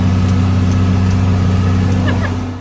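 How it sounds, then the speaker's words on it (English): A tractor engine drones loudly and steadily close by while driving on a new driveway job, holding a low, even rumble before easing off slightly at the end. "I get to drive a tractor."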